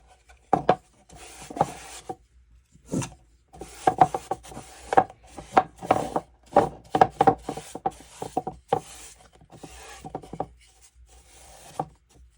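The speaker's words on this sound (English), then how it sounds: "I'll still go over the inside with a little bit of wax anyway" Clear wax being rubbed by hand into the inside of a wooden painted box, getting into the creases, heard as a close series of short dry scrubbing and knocking strokes separated by brief pauses.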